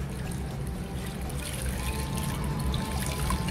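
Four cups of water pour into a pot of rice flour and sugar on a stove, a soft, steady trickle and splash heard close and fairly faint for a few seconds, with no talking.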